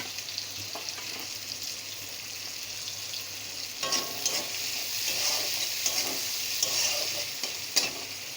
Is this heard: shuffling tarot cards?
no